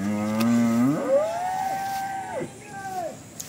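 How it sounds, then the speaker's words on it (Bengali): Cattle at a farm or cattle collection in Dinajpur, Bangladesh, give one long, loud, close moo that rises, holds steady and falls away, with no talking over it. "আমি কিছু গরু নিয়ে হাজির হয়েছি।"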